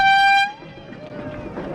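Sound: air horn blown in public

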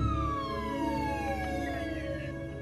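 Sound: ambulance siren

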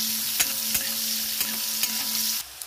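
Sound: chopped onions frying and stirred in oil

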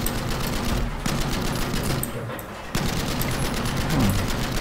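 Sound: gunfire in Battlefield 5 video game

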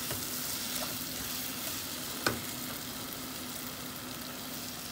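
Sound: tomato sauce frying in a pan

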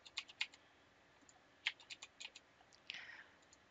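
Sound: typing a passphrase on a computer keyboard

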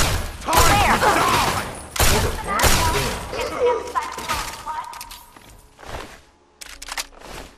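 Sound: assault rifle gunfire in the video game Fallout 3

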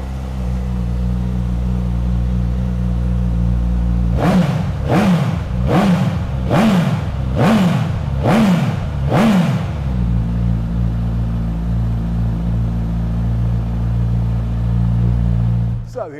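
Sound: Suzuki GSX-S1000 motorcycle engine starting and revving

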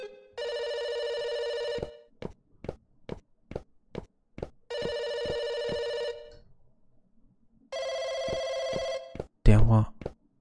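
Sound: telephone ringing

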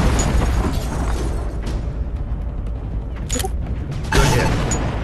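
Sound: target explosion in video game Shadow Strike

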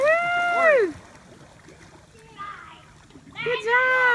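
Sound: person jumping into a lake, water splashing

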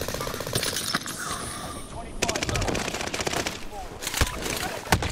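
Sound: gunfire in Call of Duty: Modern Warfare video game

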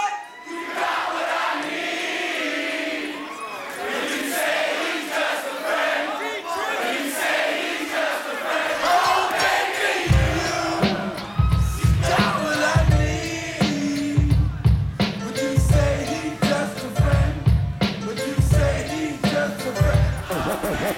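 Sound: live concert crowd cheering and yelling in Los Angeles

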